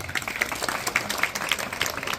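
An audience claps at a lecture during the inauguration of an NSS special annual camp in Vegam. The claps are scattered and moderately loud, with no one speaking over them.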